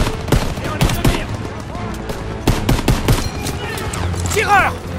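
Rapid World War II gunfire from Call of Duty WWII, including MG-42 machine-gun bursts, crackles in clustered volleys of sharp shots, loud and near, with game voices shouting between the bursts.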